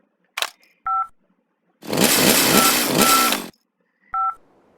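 In the Henry Stickmin game Escaping the Prison, a telephone gives a short dial beep, then a sustained harsh electronic burst of about two seconds, then a final beep, all clear and close with silence between.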